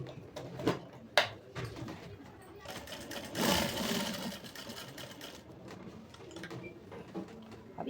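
A sewing machine stitches a kurti collar in short, quiet whirring bursts, with a longer run in the middle, mixed with clicks and handling noises at close range.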